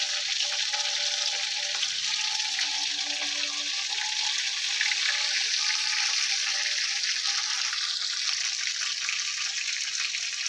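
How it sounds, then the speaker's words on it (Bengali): Bombay duck fish pakoras fry in oil in a wok, a steady, close and even sizzling hiss that runs unbroken throughout, with no talking. "একই রকম পদ্ধতিতে বাকি মাছগুলো আমি ভেজে নেব"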